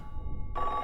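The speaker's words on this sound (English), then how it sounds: "see, there's another phone call." In the video game Silent Hill 3, a telephone bell starts ringing abruptly after a low, quiet ambient rumble, giving one bright, loud electronic ring tone.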